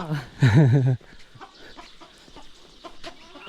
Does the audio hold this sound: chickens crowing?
yes